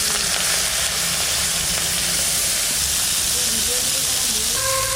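Small freshwater prawns fry in hot oil with a loud, constant hiss and sizzle that stays even throughout.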